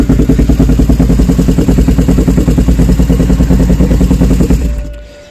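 A Suzuki GS500 motorcycle fitted with an SC Project exhaust idles loud and close, a deep, even pulsing beat that holds steady and then dies away as the engine shuts off.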